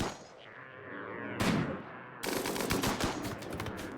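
Gunfire in the video game RimWorld, with a sniper rifle shooting during a raid: a sharp blast, then a dense crackling burst of rapid shots that continues to the end over a steady background hum.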